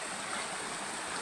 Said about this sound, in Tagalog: dito naman po tayo ngayon sa ilog